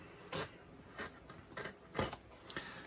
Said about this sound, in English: let me grab my blade and cut open